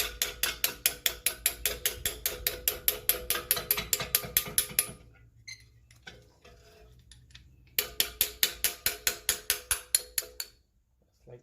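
A hammer taps seized brake caliper pins out on a Subaru Legacy, giving a rapid, even series of sharp metallic knocks. The tapping pauses for a few seconds, then resumes at the same pace.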